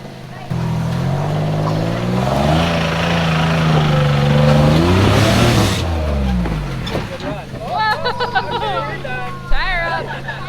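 An off-road vehicle's engine revs and labors while climbing a rocky trail, loud and close, with the pitch rising and falling between gear changes, and several voices talk and chatter over it throughout.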